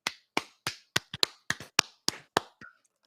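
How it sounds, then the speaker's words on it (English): Eleven sharp, evenly spaced hand claps from one person, close and loud, ringing out on their own in a steady rhythm, with a brief softer sound just after. "Clap if your team 2-0."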